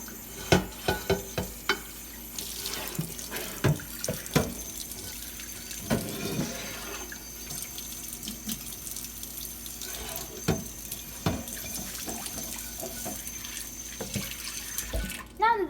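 Water runs from a kitchen tap into a sink while a dish is washed, a continuous splashing flow broken by frequent close clinks and knocks of the dish, with occasional faint talk.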